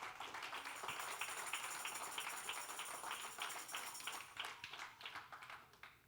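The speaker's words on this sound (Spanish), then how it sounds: "Denle un aplauso fuerte al Rey." A church congregation applauds loudly at a sermon, steady dense clapping that fills the room for several seconds and then begins to thin out toward the end.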